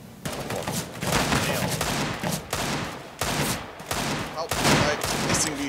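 Rapid gunfire crackles in bursts from the CS:GO video game, loud and dense, with short gaps between volleys of shots.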